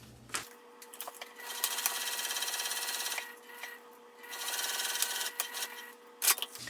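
Sewing machine stitching a quilt seam, two bursts of fast, even needle chatter separated by a short pause, close and alone, followed by a brief click.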